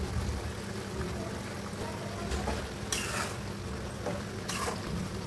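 A jackfruit curry is stirred in a pot over steady sizzling, with a couple of brief scraping sweeps of the spoon against the pot standing out close by.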